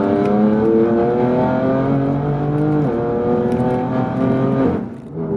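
A 2019 BMW F82 M4 CS fitted with M Performance parts holds a loud, close engine rev with a raspy exhaust, the pitch climbing steadily, dipping briefly, then rising again before cutting off near the end.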